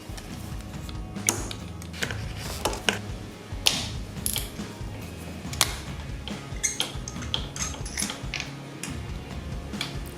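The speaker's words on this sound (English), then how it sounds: "Let's go ahead and pull the spark plugs out" Ratchet wrench clicking in quick irregular bursts while removing spark plugs from a Yamaha FZ-07 motorcycle, close and crisp with brief pauses between strokes.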